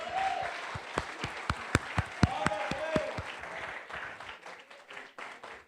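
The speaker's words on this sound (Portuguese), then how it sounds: "Aplauda o Rei." Applause from a church congregation at a Sunday service, with loud separate claps and a bed of clapping, plus brief voices rising over it, fading toward the end.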